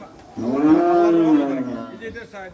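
A cow on a cattle farm gives a single long, loud moo that rises and falls over about a second and a half, close by, with faint background noise.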